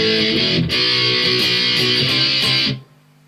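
Electric guitar plays the chorus B part of a song as a loud, distorted run of rhythmic chords with a brief dip midway, ending in an abrupt stop and a short tail.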